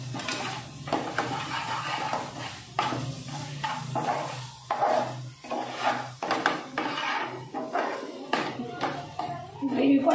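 A spoon scrapes and clanks against a pot while a gathiya sev curry gravy is mixed, with repeated close metallic strokes in an uneven rhythm and some speech alongside.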